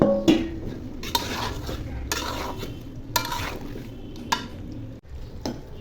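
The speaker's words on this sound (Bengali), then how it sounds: "রসুন হালকা ভাজা হয়ে গেলে তখন আমগুলো ঢেলে দিব" Mango pieces with lightly fried garlic are stirred and fried in a pan for a sour-spicy mango pickle, giving a steady sizzle with repeated scraping and clinking strokes of a spoon against the pan.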